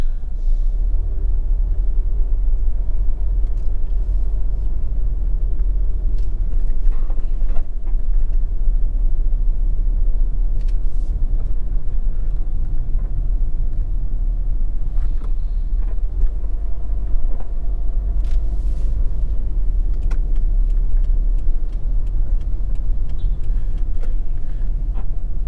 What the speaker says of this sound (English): Traffic in the place, you know.